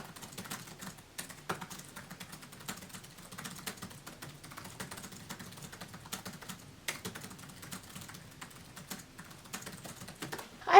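Steady typing on a computer keyboard during a timed writing session, soft and close, with continuous irregular key clicks and occasional louder keystrokes and no talking.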